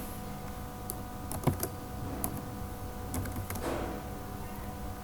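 Scattered keystrokes on a computer keyboard, a few quick taps in irregular bursts with pauses, close and fairly soft over a low steady room hum.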